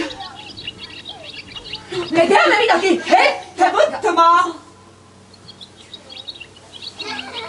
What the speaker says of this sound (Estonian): Kuule, ikka nagu siristab siin kuskil